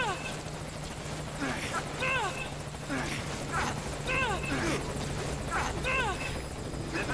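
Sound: helicopter in video game Metal Gear Solid

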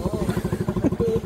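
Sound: Suzuki Raider 150cc motorcycle engine during knee drag

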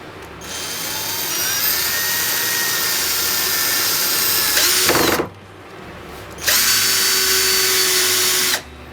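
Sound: Vitals cordless screwdriver running, clutch at first setting

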